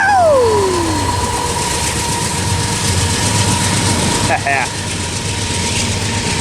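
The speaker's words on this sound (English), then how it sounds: "here comes 2-9 shoving the train" Freight train at Fullerton being shoved by a locomotive, a loud rumbling rolling drone with engine hum and wheel clatter, a falling horn or squeal at the start and brief squealing near the end.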